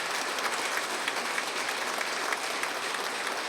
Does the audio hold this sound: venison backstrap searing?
no